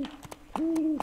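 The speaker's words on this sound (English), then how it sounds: "Owls too." Two clear owl hoots from the video game Mount and Blade, each a steady tonal call separated by a short pause, close and alone with no talk.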